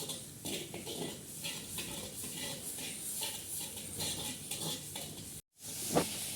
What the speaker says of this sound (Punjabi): ਦੇਖੋ ਸਾਡਾ ਵਧੀਆ ਤਰੀਕੇ ਨਾਲ ਮਸਾਲਾ ਭੁੱਜ ਕੇ ਹੋ ਜੂਗਾ ਤਿਆਰ